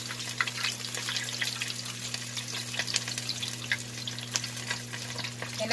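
Crispy pork pata deep-frying in a large amount of oil, a dense crackling sizzle with scattered sharp pops over a steady low hum, close and continuous.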